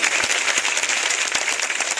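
Crowd of villagers at an outdoor village event applauding Vishal: brief, dense, steady clapping close by, with no talk over it.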